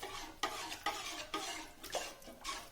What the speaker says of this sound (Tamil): பெருங்காய்த்தூள் சேர்த்ததுக்கப்புறம் நல்லா கிளறி விடுங்க